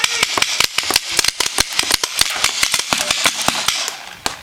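Paintball guns firing during an outdoor game at a field with barrel obstacles: a rapid, loud string of sharp pops and cracks, some overlapping, sounding close with no talking over them.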